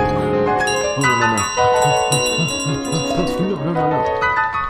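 Within Untitled Goose Game, a bell rings with a clear metallic tone over busy game music and sound effects, while players talk over it.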